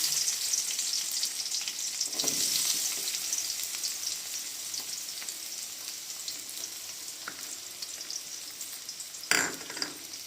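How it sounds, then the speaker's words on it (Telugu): Onions frying in hot oil in a kadai on a stove, a steady close sizzle throughout with a few brief scraping stirs and a sharper crackle near the end. "నూనె బాగా కాగిన తర్వాత ఎర్రగడ్డలు,"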